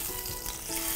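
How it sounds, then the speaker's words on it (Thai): Three pieces of chicken, skin side down, sizzle on a grill with a brief, close crackle that is faint but continuous, alone with no talking. "ใส่ลงไปเลยย่างพร้อมกัน3ชิ้น"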